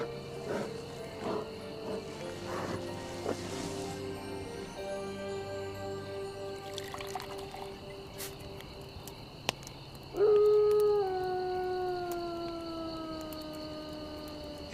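Hunting dogs trained to chase bears howl in long, drawn-out tonal cries that overlap and waver. A louder, sustained howl rises near the end.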